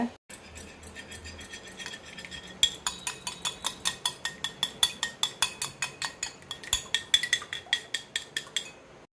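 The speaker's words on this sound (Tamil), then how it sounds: "எக்கு, சால்ட்டு, சில்லி ஃப்ளேக்ஸ் இதை முதல்ல மிக்ஸ் பண்ணிக்கோங்க." A fork or spoon whisks egg with salt and chili flakes in a bowl, producing a fast, regular series of sharp clinks against the bowl that starts sparse and settles into a steady beating rhythm.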